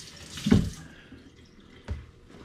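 Water from a kitchen tap runs in a short splashing burst for rinsing, followed by a single brief splash, nearby and fairly quiet.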